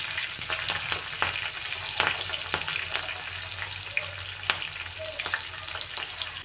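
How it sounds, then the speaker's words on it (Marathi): Mustard seeds, green chillies and curry leaves crackling in hot oil for a rava dhokla tempering: a dense steady sizzle with sharp popping bursts scattered throughout, close up and without speech. "तेल गरम झालं की आपण सोडूया मोहरी. मिरच्या घेतल्या आहेत. ते घालूया मिरच्या"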